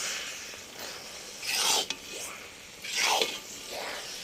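A spoon stirring carrot halwa in a pan, with two soft scraping sweeps and lighter rubs between them, close but faint with a quiet sizzle underneath.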